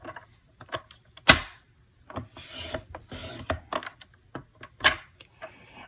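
A tool scores cardstock for a pop-up card in a series of short, dry rubbing scrapes and taps, irregular and close, with quiet gaps between strokes.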